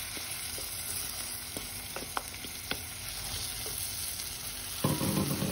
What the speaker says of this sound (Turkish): Şöyle güzelce kavuruyorum şimdilikte.